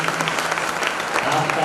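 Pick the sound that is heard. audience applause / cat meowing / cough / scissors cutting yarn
audience applause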